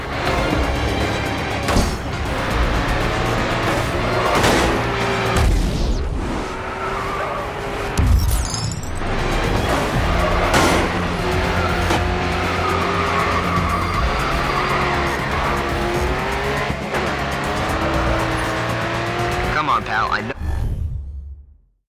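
A race car in the video game Grid 2 roars continuously with rising and falling engine pitch, punctuated by sharp tire squeals and skids, while a voice speaks over the driving.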